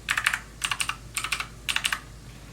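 AUKEY mechanical gaming keyboard with RGB backlight being typed on in four quick bursts of clacky keystrokes, loud and close with short pauses between bursts and no talk.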